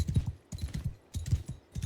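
Rhythmic clip-clop of horse hooves trotting steadily on hard ground in the video game Mount and Blade 2: Bannerlord, close and fairly loud, with no voices.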